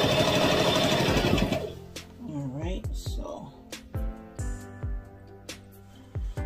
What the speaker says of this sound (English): now I'm gonna create my backward stitch